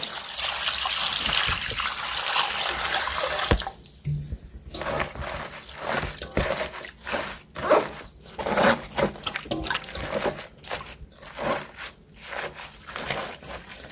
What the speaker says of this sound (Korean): 여기다가 물을 좀 자박하게 부어 주셔야 돼요.